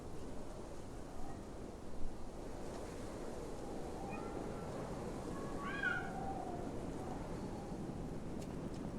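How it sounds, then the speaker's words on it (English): A cat meows faintly a few times in the dark streets of the video game Lies of P, small distant cries over a steady windy, surf-like ambient wash. "I hear a cat."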